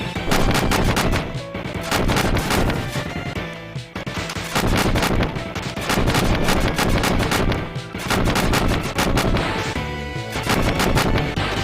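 Feather shots hit mini bosses in Kirby Super Star Ultra, a loud, dense barrage of rapid impact hits and crunchy blasts chained together in long bursts with brief gaps between volleys.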